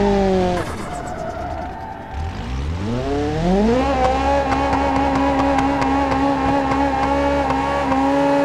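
A drag racer with nitrous boost in the driving game BeamNG.drive revs loud and close, its engine pitch climbing steeply through a long sustained acceleration with a steady high whine and no talking.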